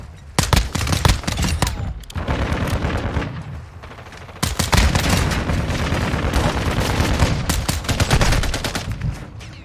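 Rapid bursts of P890 pistol fire in Modern Warfare 2 multiplayer, dense cracking volleys in quick succession with a short lull before a second sustained stretch of shots, loud and close.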